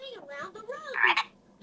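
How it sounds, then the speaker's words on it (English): A pop-up toy plays a green frog's cartoonish croaking call, a short electronic sequence of warbling croaks heard clearly with no talking over it. "Oh, it's a green frog."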